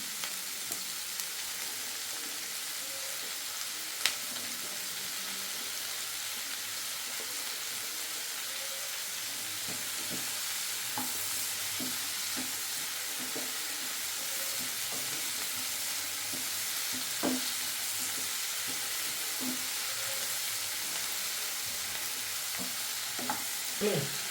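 Tomatoes being stirred into a frying pan with onions, green chillies and curry leaves for a fish curry, giving a steady low sizzle with scattered soft scrapes and taps of a spoon throughout, no talking.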